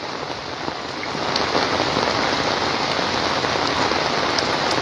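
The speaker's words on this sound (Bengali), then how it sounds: "প্রচুর বেড়ে গেছে বৃষ্টি প্রচুর বেড়ে গেছে বৃষ্টি" Heavy morning rain during a thunderstorm in Comilla, a dense, loud, continuous roar of drops hitting surfaces that swells after the first second and stays steady.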